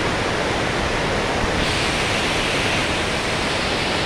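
Water flows steadily through the filter beds of a water treatment plant with eight filters, a loud, close, unbroken rushing hiss that never changes and has no voices over it.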